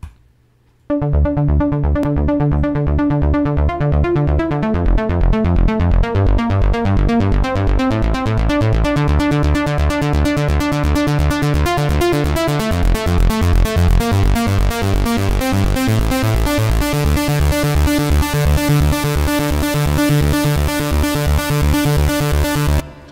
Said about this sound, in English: he used this intro pluck